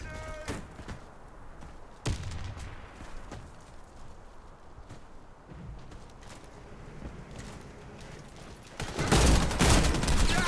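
Bursts of gunfire crackle through a game soundscape, sharp shots scattered across the clip before a loud, dense volley erupts near the end.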